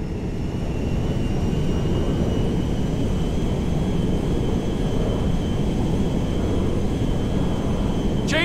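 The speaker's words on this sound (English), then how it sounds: "There's been a change of personnel and destination on the Meriwether jet. We are now landing at Mackenzie Field" A jet aircraft in the video game Grand Theft Auto V roars steadily as it flies in for a landing, a loud continuous engine drone that holds evenly throughout with no talk.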